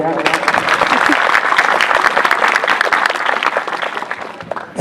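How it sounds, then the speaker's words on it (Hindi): Students and audience at a school farewell function break into loud, close applause, dense clapping filling the hall with some voices mixed in, holding steady for several seconds. "ताली तो बजाओ यार।"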